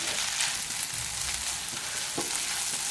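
Shallots sauté in a pan for a Kerala-style country chicken curry, a continuous hiss and crackle of frying with occasional stirring scrapes, close and steady.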